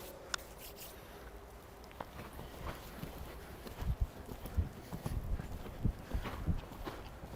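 A 6-year-old mare's hooves strike soft ground as she is ridden during a lesson, faint irregular thuds that grow more distinct in the second half, over a quiet outdoor background.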